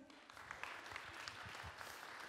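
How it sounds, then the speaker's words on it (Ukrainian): An audience at a Podillia business-elite awards ceremony claps steadily, a dense, even patter of many hands heard from within the hall. "Оплески, будь ласка, Дмитро Криницький"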